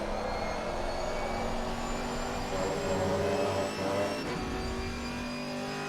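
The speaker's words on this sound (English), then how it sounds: "Just listen to that engine." A GT4 race car engine in Assetto Corsa Competizione holds a loud, steady high-pitched drone at top speed down a straight, with a sustained whine and only slight pitch shifts.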